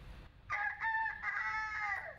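A contestant imitating a chicken in a clucking contest on stage, with a drawn-out, strained squawk that wavers in pitch and breaks into a few short bursts, heard clearly and alone.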